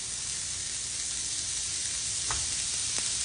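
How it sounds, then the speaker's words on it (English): Steady, close sizzling of burgers frying on a hot flat griddle, a continuous crackling hiss with a couple of brief sharper pops near the end. "They're sizzling, so that's a good sign"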